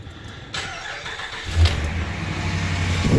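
A cold 2011 Dodge Ram 5.7 Hemi V8 idles after sitting for three days, a steady low rumble that swells as it settles, heard up close and alone.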